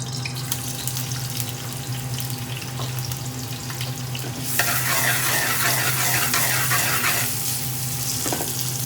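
Oil bubbles and sizzles steadily in a pan while a chicken tikka jalfrezi is cooked, with a low background hum and a louder burst of crackling frying in the second half; no talking.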